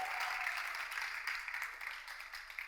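A studio audience applauds loudly on a reality television show, dense continuous clapping that holds steady and then thins slightly toward the end.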